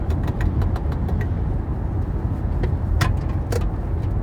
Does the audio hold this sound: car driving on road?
yes